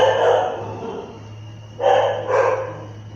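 Dogs bark a few times at a moderate distance, one bark at the start and then two more close together, over a low steady hum.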